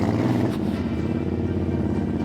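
A Royal Enfield Interceptor 650 motorcycle, fitted with a new gearbox and clutch, idles nearby with a steady, throbbing, rumbling engine note that stays even and close for a couple of seconds.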